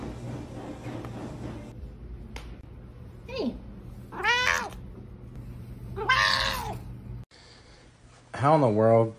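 A cat meows several times, with drawn-out, wavering cries rising and falling, close by over a steady background hum.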